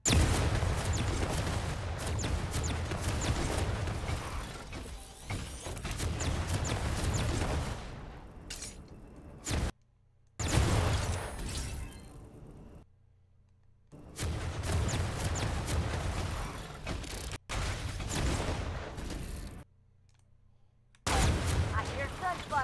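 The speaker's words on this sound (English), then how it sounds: "I hear gunfire." Repeated gunfire and explosive booms from the mech battle royale game Super Mecha Champion, loud dense bursts broken by a few short silent gaps, with other game sounds mixed in.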